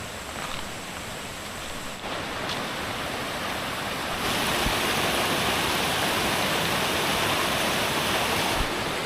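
Stream water at Kledang Saiong recreation park in Ipoh rushes continuously, a close, steady broadband hiss of flowing water that swells louder partway through, with no voices.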